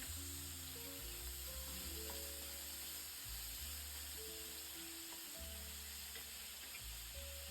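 Onion, curry leaves and green chili sizzle in hot oil for puffed rice usli, a steady close hiss with a low hum running underneath.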